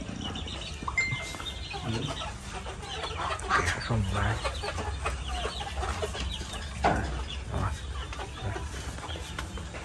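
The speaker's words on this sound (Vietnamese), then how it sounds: "Đây là chuồng gà của anh hả?" Chickens clucking in a backyard coop, a steady busy chorus of clucks and squawks that carries on throughout, with people talking over it and background noise.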